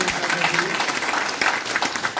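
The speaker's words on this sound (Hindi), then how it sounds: "जोरदार तालियों से सोलंकी जी" Vigorous applause from an audience at a welcome ceremony, a dense steady wash of clapping that carries on without pause for the whole stretch.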